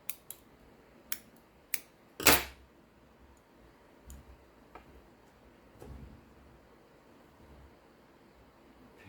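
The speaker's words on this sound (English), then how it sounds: "I'm just going to cut this thread." Scissors snip through crochet yarn with a few sharp, close clicks, followed by one louder cut and some quieter handling sounds, in a quiet room.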